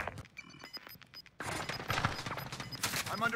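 Rapid bursts of gunfire in a first-person shooter video game, with dense fusillade-like shots growing louder and more continuous in the second half, mixed with game effects and a player's voice talking over the action.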